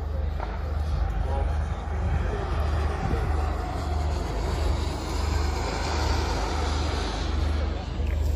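Model jet aircraft engines run on kerosene with a 5% oil mix at a model airshow, giving a steady roaring whine with a low rumble throughout while someone talks over it.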